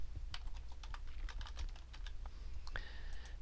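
Fingers typing on a computer keyboard, with a quick, uneven run of crisp key clicks close by and heard alone, ending with a slightly heavier press.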